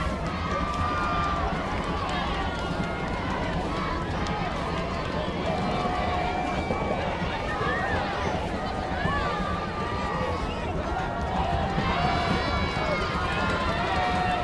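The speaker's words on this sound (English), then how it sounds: "Crowd getting loud" A high school football crowd at the Commerce at Putnam City Trophy game, a dense steady roar of cheering and babble swelling throughout, with a commentator talking over it.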